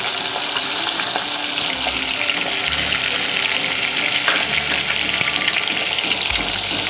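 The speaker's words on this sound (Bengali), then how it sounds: "মাছটা কিন্তু মোটামুটি আমার ভাজা হয়ে গেছে" Pomfret fish pieces frying in oil, giving a steady, close sizzle that runs unbroken throughout with faint clinks and stirring underneath, and no voices.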